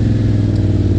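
A Yamaha Raptor quad with a sealed exhaust runs close and loud, its engine holding a steady, throbbing drone with an even pulse for a brief moment.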